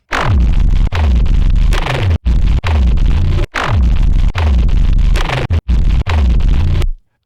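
Heavy, distorted electronic rumble bass in loud bursts, cut off abruptly by noise-gated silences several times, ending in a sharp stop.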